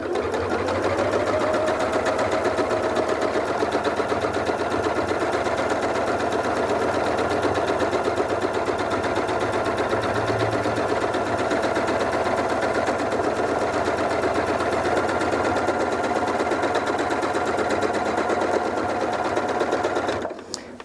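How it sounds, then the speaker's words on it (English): A Janome MC8200 sewing and quilting machine runs continuously for free motion stitching, a steady, close mechanical whirr with a rapid needle rhythm that stops abruptly at the end. "then do your stitching"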